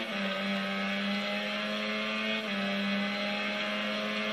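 A racing motorcycle engine from the MotoGP 15 video game holds a sustained high-revving buzzing whine, steady and fairly loud, briefly dipping midway before continuing at full throttle.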